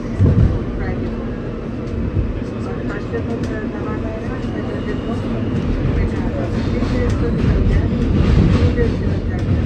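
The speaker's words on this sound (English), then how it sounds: "This is a Second Avenue bound E train via the F line." An R160 subway train on the E line running along the F line, with a loud steady rumble and rail clatter from inside the car, swelling slightly toward the end.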